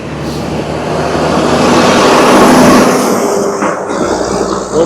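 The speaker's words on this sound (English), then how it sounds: "There's a car behind me." A car overtakes a cyclist on the road with a loud, broad rushing roar. The sound swells steadily toward the middle and then fades away, mixed with wind noise close to the microphone.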